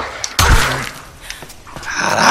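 A hostile dog lunges and snarls in an attack in the game Tomb Raider, with a sharp loud impact burst followed by growling and scuffling sounds close up, no talking.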